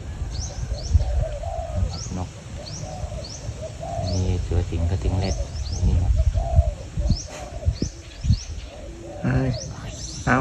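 Wild doves cooing near a Thai bird trap in the outdoors, with repeated soft coos, bird chirps and a voice talking quietly throughout.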